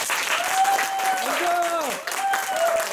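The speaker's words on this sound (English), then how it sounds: "Let's give Angel a big round of applause." An audience gives a dense, continuous burst of applause, with voices calling out over the clapping throughout.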